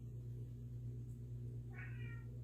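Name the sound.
cat meowing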